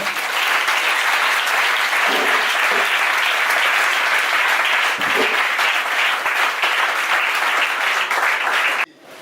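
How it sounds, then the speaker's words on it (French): A church congregation applauds loudly and steadily, a dense wash of clapping with faint voices underneath that ends abruptly. "Put your hands together for the Lord."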